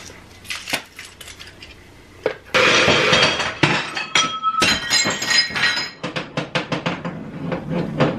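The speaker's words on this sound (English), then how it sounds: "These bowls just fell out of my cabinet. They knocked my cookbook over. They got glass everywhere." Glass bowls fall out of a kitchen cabinet and shatter, first scattered clinks, then a loud burst of breaking glass followed by a long run of tinkling, skittering shards and small impacts.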